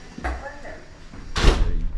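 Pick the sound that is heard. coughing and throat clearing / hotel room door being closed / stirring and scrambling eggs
hotel room door being closed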